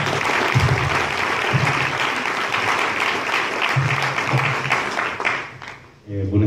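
An audience at a book presentation gives another round of applause, dense clapping sustained for several seconds with voices faintly mixed in, tapering briefly near the end before a voice begins speaking.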